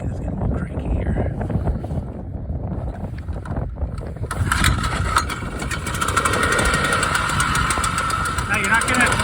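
A small Tanaka Aquabug outboard motor, running cranky, catches and runs steadily after a rough, sputtering stretch, the engine drone loud and close.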